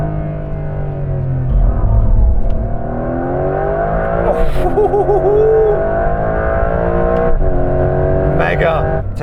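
A new Porsche 911 engine climbs through the revs toward a 7,500 rpm redline, its rising tone sustained and loud with shifts along the way, while someone talks over it.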